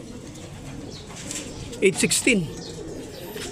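Racing pigeon cooing in a short burst of low throaty coos near the middle, with faint chirps around it and someone talking quietly at a loft.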